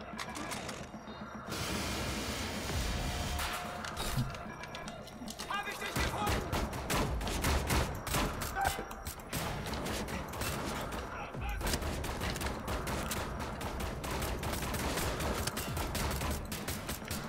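Rapid bursts of pistol gunfire ring out in the sci-fi shooter Wolfenstein: The New Order, layered with mechanical clicks and dense game music and effects that continue loudly and steadily throughout.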